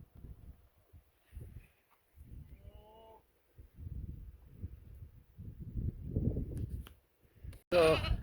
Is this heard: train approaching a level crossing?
no